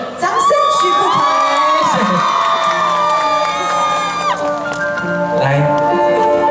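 Festival crowd at a Mazu temple celebration in Changhua cheering and shouting for a Taiwanese singer, a loud, continuous wall of whoops and excited voices with music tones ringing underneath throughout.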